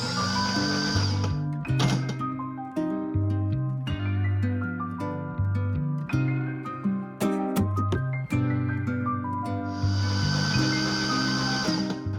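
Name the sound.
car engine being turned over to build oil pressure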